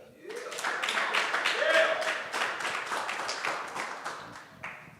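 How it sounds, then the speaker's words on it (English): Audience clapping at a candidates' meeting, a burst of many hands striking together close by for several seconds, rising quickly and holding steady with a voice heard over it. "Clap if you believe our students deserve better"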